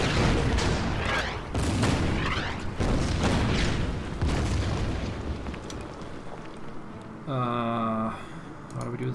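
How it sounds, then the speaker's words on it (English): Artillery fire in the Order of Battle strategy video game, a run of loud successive booms and blasts with rumbling tails, followed near the end by a brief tonal game sound effect. "Artillery. Start firing on the infantry."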